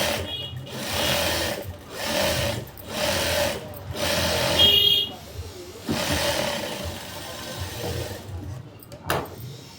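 A sewing machine stitches a ruffle-sleeve blouse in a series of short rhythmic bursts with brief pauses between, loud and close, followed by quieter handling.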